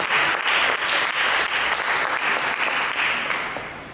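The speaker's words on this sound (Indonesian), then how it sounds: "Mari kita berikan tepuk tangan bagi Yesus." A church congregation claps together during a sermon, steady dense applause that holds for several seconds and tapers slightly at the end.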